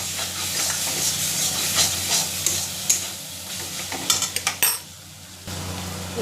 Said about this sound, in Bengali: নাড়ছি, দেখুন